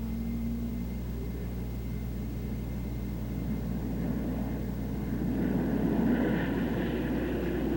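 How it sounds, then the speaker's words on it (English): Republic P-47 fighter bombers roar steadily while taking off from a runway, a loud continuous engine drone that swells slightly near the end, with no voices. "Loaded fighter bombers marshal on the runway and take off."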